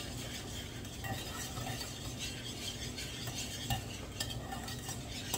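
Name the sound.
whisking pudding in a bowl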